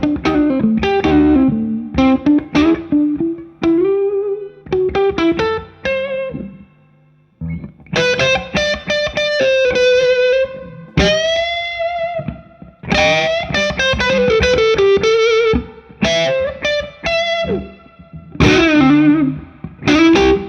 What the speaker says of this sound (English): a pedal that has transparent overdrive written on it